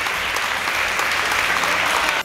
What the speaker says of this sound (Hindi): हॉल तालियों से गूंजता रहा।